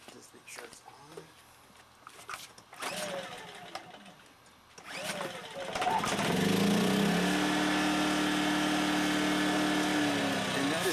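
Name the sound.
Yamaha EF2000IS tri-fuel generator running on propane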